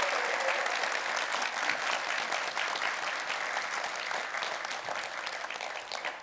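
Steady, dense applause from an audience at an Incheon civic town-hall event with the city mayor, sustained loudly throughout with no speech over it.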